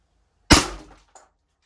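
A single sharp crack from an Umarex airgun firing a steel ball at a small pumpkin, close and loud with a quick decaying tail, followed by a faint short knock.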